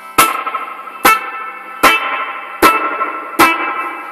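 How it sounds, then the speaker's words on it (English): An electric guitar runs through a Digitech Hardwire RV-7 reverb pedal on a spring-like setting, playing five evenly spaced muted chord stabs, each with a sharp attack and a short, splashy reverb tail. "Sounds quite like a spring reverb to me."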